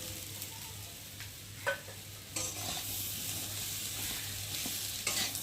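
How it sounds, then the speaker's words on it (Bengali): Fish roe stir-fried with spices in a pan, a steady close sizzle with scraping stirs and a few sharper clinks of the spatula against the pan, no talking. "এখন আমি এই যে ডিমগুলোকে দিয়ে মশলার সাথে ভালো করে কষিয়ে নেব"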